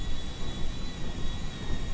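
A steady, broad roar of an airplane in flight in GTA V, with a thin whining tone on top, continuous and fairly loud for about two seconds with no speech.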